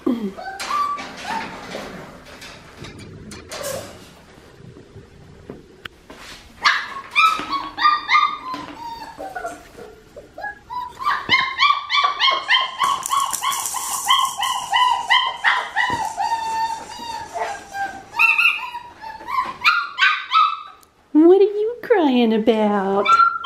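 A four-week-old Australian Shepherd puppy yips, barks and whimpers in high, squeaky bursts, starting sparse and then building into a long stretch of near-continuous noisy cries, close by, with a person talking softly in places.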